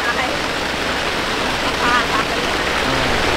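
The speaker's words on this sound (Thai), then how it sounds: "ตอนนี้ฝนตกแรงมากเลยนะแม่" Heavy rain pours steadily at a campsite, a dense, loud, unbroken wash of noise throughout, with people talking faintly beneath it.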